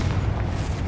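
A Confringo explosive spell blasts in Hogwarts Legacy, a brief, fairly faint low boom rumbling for under a second.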